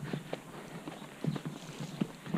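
A yearling filly walks along a road during pre-training roadwork, her hooves giving a soft, steady clip-clop at a distance, unhurried and evenly paced, with no one talking.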